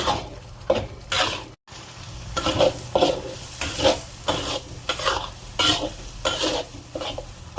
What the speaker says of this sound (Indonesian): Lanjut saya masukkan cabai merah besar. Kita masak lagi sampai bumbunya betul-betul matang ya.